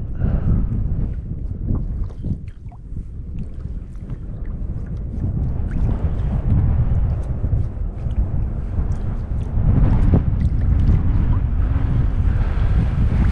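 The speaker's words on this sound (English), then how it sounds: "Forgive me for the wind" Steady wind buffeting the microphone outdoors beside a rock cliff reservoir during bass fishing, a loud continuous low rumble that swells and gusts harder near the end, with no talking.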